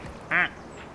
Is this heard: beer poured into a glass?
no